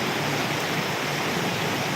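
Heavy rain pours in through an unfinished, missing section of roof, a steady dense rushing wash of water without pause, close and loud with no voices.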